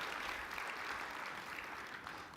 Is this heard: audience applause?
yes